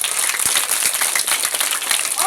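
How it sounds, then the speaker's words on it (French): A church congregation clapping hands loudly and continuously at a worship service, dense fast applause close by with a few voices faintly mixed in. "On applaudit très fort."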